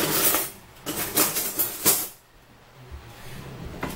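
Metal cutlery and utensils clatter and jingle in a kitchen drawer during supper prep, several bright rattling bursts in the first two seconds, then quieter rustling with a final clink.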